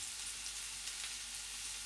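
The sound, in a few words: water poured into spice masala sizzling in an iron pan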